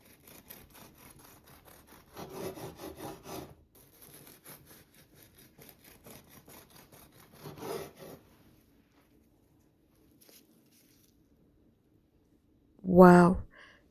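Knife sawing through a cooled, square loaf of soft pain de mie sandwich bread with a thin crust, giving several short rasping strokes in bursts, followed by a loud close thump near the end.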